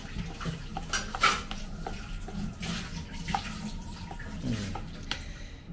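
Vegan banana cake batter with flour being stirred in a bowl, a soft, steady scraping and clinking of utensil against the bowl, fairly quiet and continuous.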